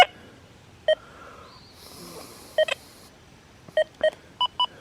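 An XP Deus 2 metal detector on its default four-tone setting gives short, clear electronic beeps, one near the start and a quick cluster later, over a quiet background of faint rustling.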